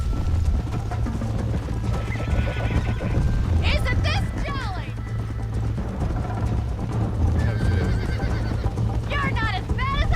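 Horses whinny loudly twice over steady galloping hoofbeats and a low droning background in Red Dead Redemption, with people talking in between.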